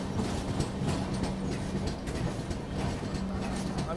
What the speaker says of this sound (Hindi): यहाँ पे नरसापुर के लिए जो ट्रेन आपको जाती दिख रही है